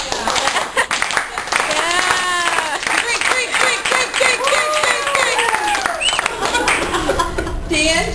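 A lively crowd at a family vacation gathering claps for several seconds, with scattered laughter and chuckles and voices talking over the applause throughout.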